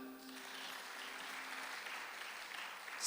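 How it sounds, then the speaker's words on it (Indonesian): Church congregation applauding during a service, a soft continuous patter of many hands heard faintly at low level, with a brief hum early on. "Boleh sekali lagi tepuk tangan."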